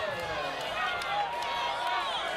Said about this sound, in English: The crowd cheering on.